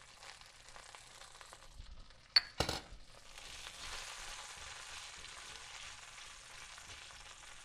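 Sliced garlic and red pepper flakes hit a hot pan with a brief clatter, then settle into a steady, soft sizzle of frying that carries on alone with no talk.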